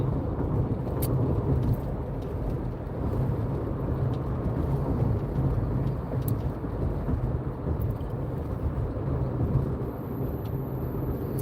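Steady road traffic rumble heard from inside a moving car while driving, a continuous low roar of tyres and engine with passing vehicles, fairly loud and without talk.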